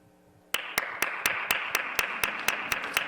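A few people clap at a steady, even rhythm after a moment of near silence, sharp distinct claps close by rather than a full crowd's applause.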